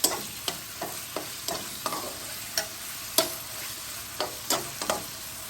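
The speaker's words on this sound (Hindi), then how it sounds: "तब तक चिकन फ्राई करूँगी जब तक इसका कलर वाइट हो जाए।" Chicken pieces fry and get stirred in a pan, with a steady sizzle running underneath and repeated sharp clinks of the spoon scraping the pan at irregular intervals, close and moderately loud, with no talking.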